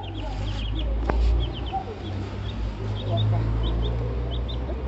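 Small chicks chirp and peep repeatedly while eating and drinking water, over a low, constant hum, with a soft thump and faint background chatter.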